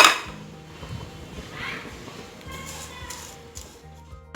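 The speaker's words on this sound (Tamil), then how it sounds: "முதல்ல சேமியாவை நம்ம வறுத்துக்கலாம்" Vermicelli roasting in ghee in a pan for semiya biryani, with faint scraping and light clinks of a spoon stirring against the pan. The sounds are quiet, close and uneven throughout.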